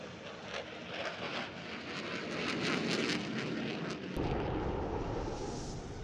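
A Sukhoi Su-27 fighter jet flies at an Ethiopian Air Force air show, its engines producing a loud, continuous roaring rush that swells and rumbles deeper toward the end.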